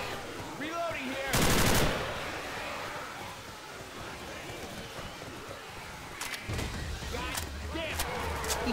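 Bursts of gunfire from weapons in Left 4 Dead 2, a loud rapid volley near the start and another sustained stretch of shots near the end, with voices talking over the game action.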